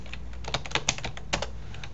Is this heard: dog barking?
no